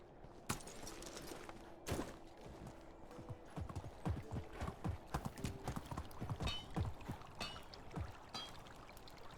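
An overburdened horse's hooves clip-clopping at a walk in the video game Medieval Dynasty, a steady rhythm of close, distinct hoofbeats over a quiet background.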